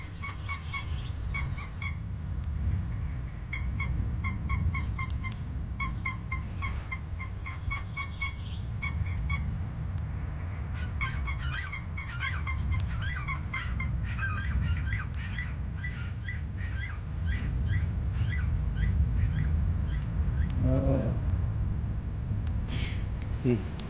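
A flock of geese honks and squawks repeatedly in a hunting area, dense overlapping calls at middle distance over a low steady background rumble.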